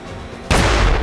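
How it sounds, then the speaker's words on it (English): Hydrogen gas sealed in a plastic bottle detonates outdoors in an open area, a single sudden loud bang that shatters the bottle after a quiet lead-in, followed by a brief ringing tail. "The first explosion destroyed the bottle."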